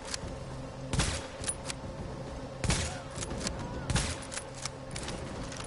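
Sniper rifle shots in the video game The Division, three sharp broadband cracks spaced about a second and a half apart over a steady game ambience bed, each with a short decaying tail.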